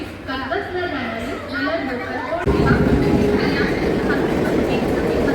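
A train running slowly during a mega block rumbles along with a steady, loud roar that swells midway, while people chatter nearby over the noise.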